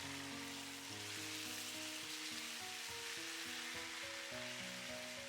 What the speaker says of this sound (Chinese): 我们来给它翻个面，把另一面也煎熟。